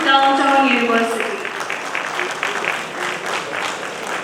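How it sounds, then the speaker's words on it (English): College workshop audience applauding award winners of a poster and ideation challenge; a voice speaks at the start, then crowd clapping carries on as a dense, steady patter. "A huge round of applause for the first prize winners of the poster or ideation challenge"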